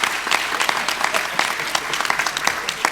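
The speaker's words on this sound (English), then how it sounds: "Let's give her a round of applause." A panel discussion audience applauds a guest author, with close, distinct hand claps forming a brisk, uneven round of moderate size.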